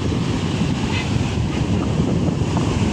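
Rough sea surf crashing against beach houses along the shore, heard as a loud, continuous roar of waves mixed with heavy wind buffeting the microphone.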